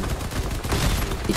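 Vehicle guns fire in a rapid, dense volley in the combat game Crossout, a loud, continuous crackle of overlapping shots with heavy low-end thumps and no pause.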